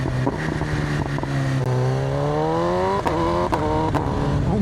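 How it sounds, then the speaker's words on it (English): A 2026 BMW M1000RR Stage 2 superbike downshifts on its quick shifter, with sharp rising revs and crisp blips repeating as the engine climbs through the gears, loud and close. "I love the way the quick shifter sounds."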